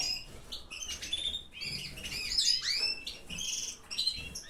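Pet aviary birds, including pearl, agate and white-throated pairs, chirp and tweet in a busy overlapping chorus of high bright calls with some wing flutters, close by.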